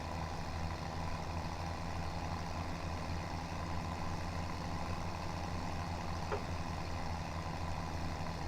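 A farm tractor engine in Farming Simulator 2017 hauls a partly full trailer up a hill, a steady low droning rumble held at constant strength with no pauses.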